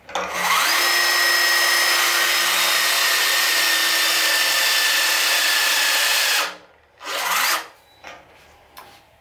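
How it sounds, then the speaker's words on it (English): A HYTORC BTM 1000 torque gun tightens a bolt to 270 foot-pounds with a loud, steady whirring drone that holds for several seconds. It then cuts off into a few short bursts and fades. "using the same BTM 1000 gun to the same 270 foot-pounds"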